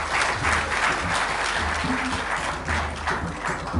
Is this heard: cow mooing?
no